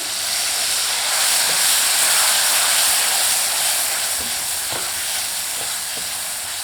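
Spices and tomatoes frying in a pan for palak saag make a steady, close sizzling hiss that holds throughout, with a few faint stirring knocks and no voices.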